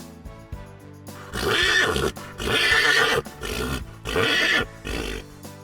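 A horse neighs three times in loud, close whinnies, each a long shaky call separated by short pauses, with no talk around them.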